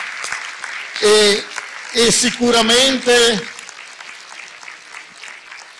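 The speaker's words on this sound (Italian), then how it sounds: "Quindi un grosso applauso a tutti quelli che si sono divertiti" An audience applauds in several loud bursts of clapping, one short then three more in quick succession, amid talk, and a voice carries on speaking afterward.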